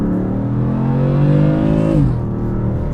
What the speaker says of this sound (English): I'll just put it in second and then floor it